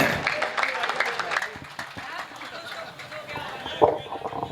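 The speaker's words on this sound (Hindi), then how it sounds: "बार जोरदार तालियां बजाइए।" An audience at a Hindi comedy poetry gathering claps in a dense, steady patter of applause, moderately loud and continuous with a murmur of voices mixed in.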